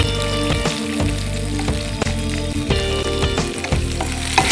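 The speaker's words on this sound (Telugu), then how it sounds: "అండ్ కరివేపాకు అండ్ జీడిపప్పు. ఇప్పుడు వీటిని కొంచెం ఫ్రై చేద్దాం." Curry leaves and cashews fry in oil for tomato upma, a loud dense sizzle and crackle right up close, with repeated quick stirring knocks against the pan and no one talking.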